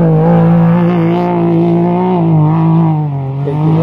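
An off-road race car in the Los Cabos to La Paz race roars past spectators, a loud, close, sustained engine drone with a shifting pitch as it goes by.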